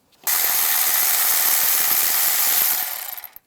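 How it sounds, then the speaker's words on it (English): A ratchet with a 13mm socket clicks in a fast steady run for about three seconds, close and loud, while removing the valve studs of an air injection check valve on a 2002-2009 Chevrolet Trailblazer. "Use a 13mm socket."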